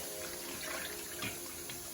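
Bleach and water solution, mixed half and half, poured onto a shirt for reverse tie-dyeing, giving a steady close splashing trickle of liquid that swells briefly in two spots over a couple of seconds.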